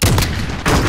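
Loud close gunfire bursts out in a search and destroy match, with a dense crack at the start and another sharp shot near the end of the short moment.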